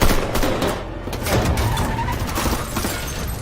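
Film gunfire during a robbery attack comes as a dense, loud burst of rapid shots and crashes that fills the whole moment without pause.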